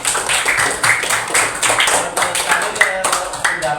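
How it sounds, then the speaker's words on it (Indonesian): Group of participants clapping together during a school staff discussion, a brisk, fairly loud round of claps with voices talking over it. "Ya, tepuk tangan dulu ya."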